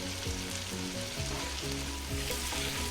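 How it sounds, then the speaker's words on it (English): Surti lilva beans being stirred in a sizzling pan, a dense, continuous frying hiss close up, with no voices. "It's called surti lilva, and I'm just going to stir them in"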